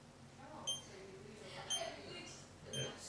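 A SimpliSafe home security keypad gives three short, high electronic beeps spaced about a second apart as its buttons are pressed, fairly quiet against faint room noise.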